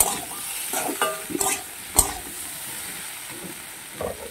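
Vegetables and spices fry in a pan with a soft, continuous sizzle, punctuated by a few sharp scrapes and clinks of the stirring spoon.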